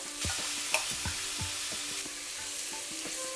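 Spinach wadi fries in coconut oil with a constant bright sizzle, while a spoon stirs it in repeated low knocks and scrapes against the pan, close and steady, with no voices.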